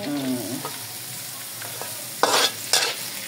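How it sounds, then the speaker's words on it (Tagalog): Annatto seeds fry in hot oil in a pan with a soft steady sizzle, joined by a few louder bursts of sizzling and stirring scrapes toward the end. "Ganun lang, prito nyo lang aswite."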